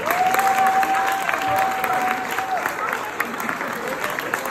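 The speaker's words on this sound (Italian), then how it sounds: "rifatemi un applauso perché ve lo meritate." Audience applauding at a firefighters' charity gala in Venice, a steady dense roar of clapping from a crowd, with a sustained tone running beneath it partway through.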